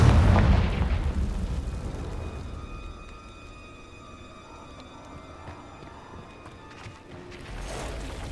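A Confringo spell blast in Hogwarts Legacy, a loud booming explosion at the start that decays into a long rumbling tail, with another swell near the end.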